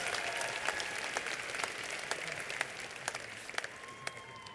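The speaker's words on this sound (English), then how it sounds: "Give yourselves a round of applause." Graduates at a high school graduation ceremony giving themselves a round of applause, a faint distant spread of clapping with a few sharper individual claps standing out near the end.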